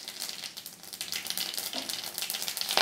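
White cumin seeds hit hot oil in a wok, giving a steady, bright crackling sizzle that holds at an even level for a few seconds, close and continuous, with no voices.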